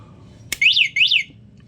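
A sharp click followed by two short, warbling electronic beeps from the buzzer of a junked three-wheel electric bike, in quick succession, loud and close, with quiet background.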